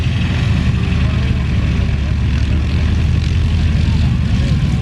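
Stearman and Waco UPF-7 biplanes at the Flying Circus airfield, a loud continuous rumbling radial-engine and propeller drone close by, with a voice talking over it.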